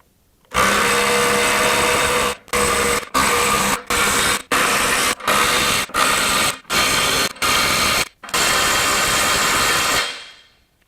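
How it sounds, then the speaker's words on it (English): A DeWalt DCF902B 12V subcompact impact wrench on high hammers in a series of loud, close bursts, about ten separate rattling runs split by short pauses, with no talking. "I've got the impact wrench in high"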